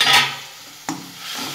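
A spoon scrapes through spiced masala that is sizzling in a pan with a little hot water, for a green pigeon pea curry. The stirring comes in two close, clear strokes over a soft sizzle, with no talk.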